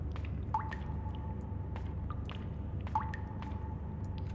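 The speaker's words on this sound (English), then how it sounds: "Oil is dripping from the pipes." Oil dripping from pipes in the game Crow Country: distinct plinking drips, each with a short ringing tone, falling over a low steady ambient drone at an irregular pace, no voices.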